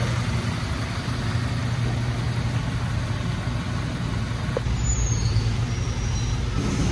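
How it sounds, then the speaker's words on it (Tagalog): A 2021–2024 Toyota Fortuner engine idles with a steady, low hum throughout, heard close and alone without talk. "Yan naka-start yung makina niya."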